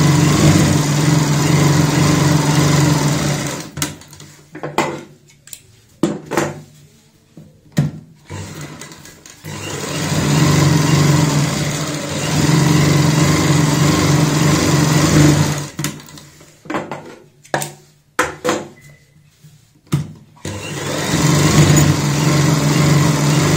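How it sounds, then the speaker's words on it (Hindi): A sewing machine stitching a stool cover runs in loud, close whirring bursts of stitching, stopping and restarting several times with short quiet gaps between runs. "हम किसी भी एक निशान को लेंगे और उसके ऊपर सिलाई लगाएंगे"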